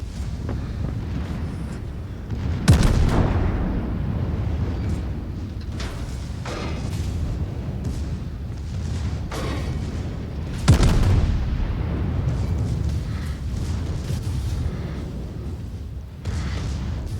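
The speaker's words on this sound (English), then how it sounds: "Concentrate fire on the enemy warship." Heavy battleship guns on a Bayern fire on an enemy warship in World of Warships, with two deep, loud booms spaced several seconds apart over a constant roaring wind rumble.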